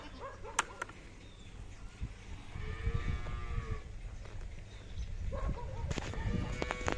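A Khillar cow moos in a low, drawn-out call at moderate distance, with faint background noise and brief clicks around it.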